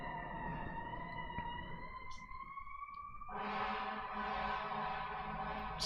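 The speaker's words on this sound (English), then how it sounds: "There's a siren going by." A wailing emergency siren sweeps up and down, growing louder as it passes nearby, its tone shifting midway through.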